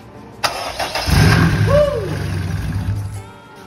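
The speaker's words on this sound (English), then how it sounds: "we're gonna give it a test fire and see what happens" A Honda K20 VTEC engine swapped into a classic Mini cranks over and fires up close by. A sharp start is followed by a rough, rising idle with a brief rev, and voices speak over it.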